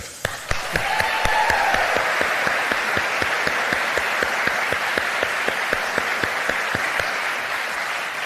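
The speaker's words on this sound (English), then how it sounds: "let's cheer loud" Steady, dense applause from an audience at a college football award show, the Burlsworth Trophy ceremony, with sharp individual claps standing out through a continuous wash of clapping that fades slightly toward the end.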